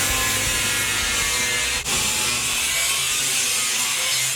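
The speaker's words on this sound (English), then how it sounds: "If you've ever tried to drill through steel rivets" A drill grinds steadily through steel rivets on a box truck build, a loud, continuous harsh mechanical whir with one brief dip partway through.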